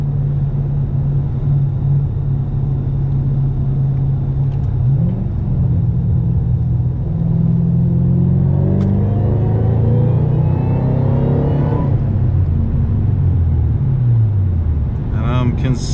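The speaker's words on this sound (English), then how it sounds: "We're gonna try another third gear pull" Supercharged 2010 Ford Shelby GT500 with a low boost issue accelerating in a third gear pull, a deep engine rumble rising steadily in pitch with supercharger whine, heard from inside the car with people talking over it.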